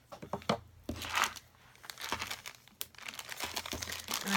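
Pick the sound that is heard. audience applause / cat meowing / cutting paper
cutting paper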